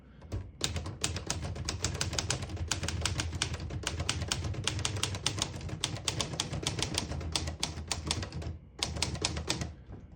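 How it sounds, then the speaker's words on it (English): A 1954 Olivetti 22 portable manual typewriter types a sentence on the red half of the ribbon: rapid, crisp, close keystrokes in an even run, with a short pause before the typing resumes near the end. "I'll type a sentence in red on the next line, switch from black to red."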